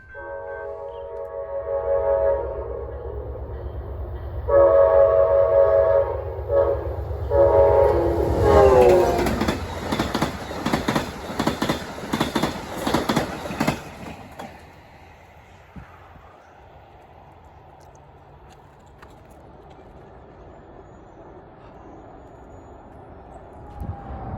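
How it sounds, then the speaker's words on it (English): A train running at about 70 mph toward Main Street Station sounds its horn in long, loud blasts. The roar of the passing cars follows with rhythmic clatter, then fades to a distant rumble. "This one was doing about 70 as it headed toward Main Street Station."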